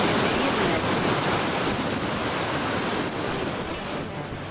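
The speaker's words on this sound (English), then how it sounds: "It's a bit breezy here today." Wind blows hard along the rocky Newfoundland coastline near Gussetts Cove and Western Bay, a loud, steady roar buffeting the microphone and mixed with surf, easing slightly toward the end, with no voices.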